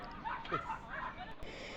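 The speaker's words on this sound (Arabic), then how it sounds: "بصوا على الكلاب الصغيرة دي" Puppies play together at Dream Park, letting out several high, excited yips and short barks in quick bursts at close range, with a voice talking over them.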